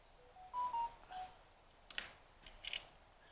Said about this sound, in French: Je sais pas ce qu'il a, mon téléphone. Il sonne à chaque fois que j'ai quelque chose sur Internet.